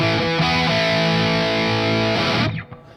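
An Ibanez S770 electric guitar on a crunch channel with the bridge pickup and a touch of reverb plays loud, distorted sustained chords that ring for about two and a half seconds, then cut off into a brief decaying tail.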